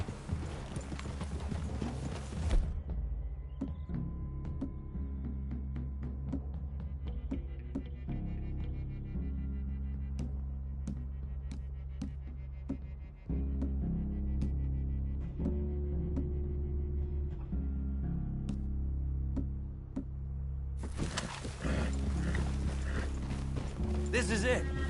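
Steady clip-clop of horse hooves plodding along at a walking pace in the video game Red Dead Redemption 2, mixed with a continuous musical backdrop.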